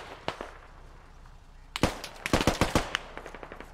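Rapid bursts of automatic gunfire crackle through a large 40-versus-40 squad battle in a video game, first a couple of isolated shots, then a dense volley of loud, sharp reports close by.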